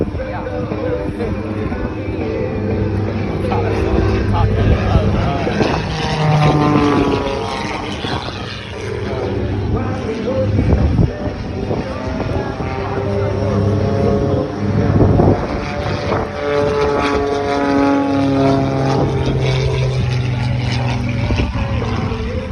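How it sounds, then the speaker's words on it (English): Highly modified Super Chipmunk airshow plane with a custom 350 hp engine, its propeller drone rising and falling as it maneuvers at the Thunder over Michigan airshow, loud and continuous with wind buffeting and a voice talking over it. "This Super Chipmunk has been highly modified into the airshow airplane we see today."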